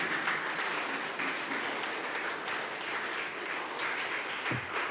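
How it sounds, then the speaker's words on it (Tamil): Sustained audience applause from a seated crowd at a talk, a dense, even wash of clapping lasting several seconds without a break, with no voices over it. "ஐயாவுக்கெல்லாம் நீங்கள்லாம் எழுந்துன்னு ஒரு வாட்டியே கைத்தட்டலாம்."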